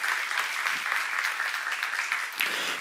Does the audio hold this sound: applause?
yes